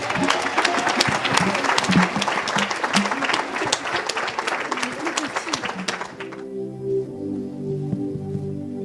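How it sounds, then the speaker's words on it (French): A church audience bursts into loud, dense applause and cheering for Jesus at a surprise birthday celebration. It lasts about six seconds, then cuts to a sustained musical tone. "Si vous êtes d'accord, acclamez pour Jésus."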